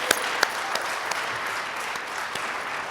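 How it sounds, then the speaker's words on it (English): Audience applause at an awards ceremony for Detroit farmers, a steady even wash of clapping from a seated crowd with a few sharper nearby claps standing out early on, moderately loud throughout. "Can I get one more round of applause for all the amazing work of the Detroit farmers that are here?"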